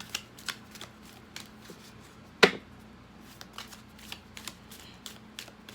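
A deck of cards is shuffled for a reading, with soft riffling flicks and taps spread through the clip and one sharper snap partway in, all quiet and close.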